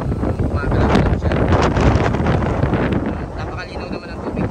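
Strong wind buffets the microphone on a beach lined with swaying coconut palms, a loud, continuous roar and rumble that barely rises or falls, with breaking waves nearby.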